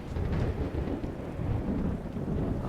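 Steady rain with low rumbling thunder in the Skyrim Special Edition video game, a dense, fairly quiet wash of noise that holds evenly throughout with no voices.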